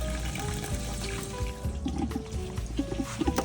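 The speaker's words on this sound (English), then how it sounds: "Now we're going to kind of drain the hop basket to get whatever remaining tasty hop juices are kept in" Hot wort drains out of the lifted hop basket of a Grainfather all-in-one brewing system while brewing a German Helles lager, giving a steady close trickle and splash of liquid that continues throughout.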